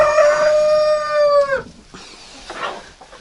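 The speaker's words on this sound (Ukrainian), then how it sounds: "якраз курочка тужиться, несеться." A backyard hen straining to lay an egg in winter gives one loud, drawn-out call that falls in pitch and cuts off, followed by soft, quieter rustling nearby.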